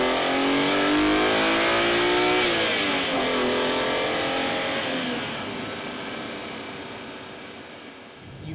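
BMW E86 Z4 M with a naturally aspirated engine revving hard to 7,900 RPM, a loud, rising howl that climbs steadily in pitch, briefly shifts, then fades gradually as the car pulls away, with no voices.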